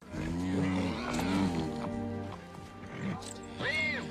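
A horse in The Lord of the Rings: The Two Towers neighs and snorts, with a loud whinny near the end, mixed with film dialogue and music.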